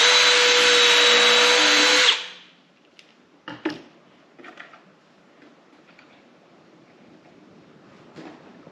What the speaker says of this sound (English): I'm gonna drill this first pilot hole and then put that screw in.